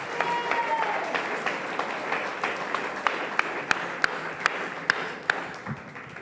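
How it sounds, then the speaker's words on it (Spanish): A church congregation at a worship service applauds loudly, a dense rolling clap punctuated by a few sharp, distinct individual claps, with some voices mixed in. "pero fuerte, démosle un aplauso"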